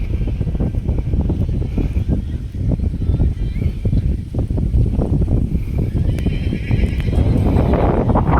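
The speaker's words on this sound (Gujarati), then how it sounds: "ભરતભાઈને દીપને ચડાવ્યો તો રાઇડિંગ ચાલુ કરી છે." A Marwari mare neighs while hooves clip-clop steadily during a ride, loud and close, with wind buffeting the microphone throughout.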